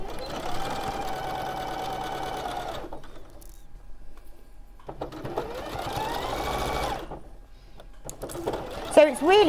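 A sewing machine sews pieced fabric strips in two long runs of steady, fast whirring, separated by quieter pauses, with a voice talking over and between them.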